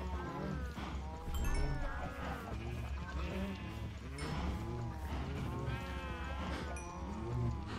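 Sheep bleating in Minecraft, several wavering game bleats overlapping with cow moos in a steady, busy farm-animal chorus with no talk.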